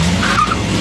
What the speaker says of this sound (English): The offender puts his car into drive.